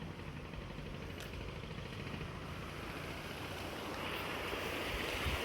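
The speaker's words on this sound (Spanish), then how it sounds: "Miren el río de San Antonio." Water of the San Antonio river flows with a steady broadband rush, moderately faint and continuous, with some wind on the microphone and no voices.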